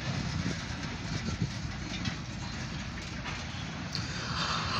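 Long mixed OC&T freight train heading southbound through a freight yard in Titusville, its steady rumble and rolling wagon noise continuous and fairly close throughout, with a brief higher squeal near the end.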